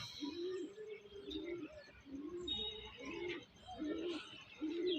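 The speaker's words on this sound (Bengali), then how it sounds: "এটা মাদা পায়রা" Soft, repeated low cooing of a female pigeon in a steady rhythm, close by and fairly quiet, with occasional faint chirps around it.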